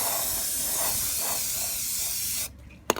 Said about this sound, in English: So I found something else that I could spray paint.